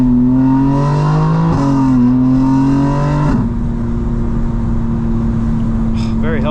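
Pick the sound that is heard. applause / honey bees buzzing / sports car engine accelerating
sports car engine accelerating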